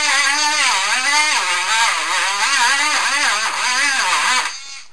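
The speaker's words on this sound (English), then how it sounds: "I take my little grinding tool and grind just enough of the spot" A small handheld rotary grinding tool grinds a spot on a model railroad coffee table layout, a steady high whine with wavering pitch that runs loud and close for about four and a half seconds before cutting off.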